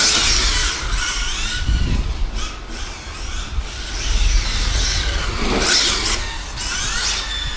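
A heavy HOBAO VTE2-8 electric RC car on dry tires slides and spins on the ground, giving repeated high squealing and scrubbing bursts over a whining motor and rough surface noise, with no talking.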